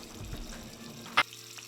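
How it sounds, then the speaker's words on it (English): Margarine melting in extra virgin olive oil in a pan gives a quiet, low bubbling sizzle, ending with a brief sharp clatter near the end before settling into a faint hum. "Now we're going to add 5 tablespoons of margarine and we're going to melt this."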